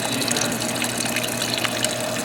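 Leftover nitro fuel pours out in a steady liquid gush in a dragster garage, a continuous close, loud flow with no pauses.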